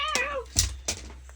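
A house cat gives a rising, wavering meow up close, followed by a few soft rustles and small noises, no speech.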